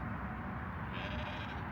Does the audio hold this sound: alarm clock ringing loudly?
no